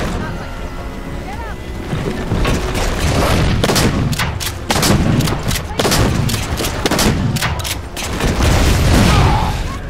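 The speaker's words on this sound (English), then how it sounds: "Oh, they're throwing grenades. My own teammates throwing grenades." Grenade explosions and gunfire in a Halo 4 firefight, loud close booms and crackling shots bursting repeatedly over several seconds, with someone talking through the chaos.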